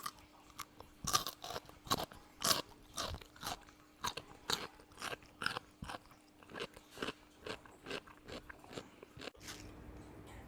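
Crunchy fried food blanched in boiling water is bitten and chewed close up, giving a steady series of sharp, loud crisp crunches one after another for about nine seconds, with no talking.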